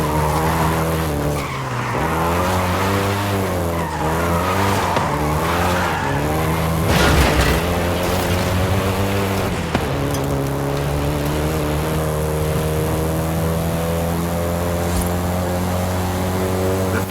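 A first-generation Volkswagen Golf GTI in the racing game Forza Horizon 5, its engine droning and shifting pitch steadily throughout, with a stretch of tyre squeal and skidding midway, loud and continuous.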